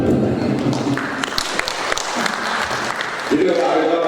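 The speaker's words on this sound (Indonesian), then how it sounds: "Tepuk tangan." Audience applause at a Halal Bi Halal gathering of a teachers' association, a steady wash of hand claps filling the room with voices talking over it.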